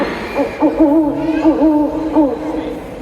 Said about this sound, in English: It's the familiar call of an owl.